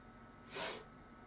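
A person gives one short, breathy nasal sniff, close and quiet, against a faint steady background hiss.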